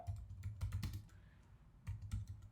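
Quick bursts of typing on a computer keyboard in a terminal, clustered clicky keystrokes in two short runs with a brief pause between, close and alone.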